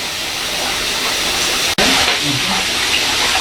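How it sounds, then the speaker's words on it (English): Water gushes and splashes continuously at close range while beans are washed, briefly cutting out for an instant before resuming. "See the way the water is just pumping in and the pea is finding their way out."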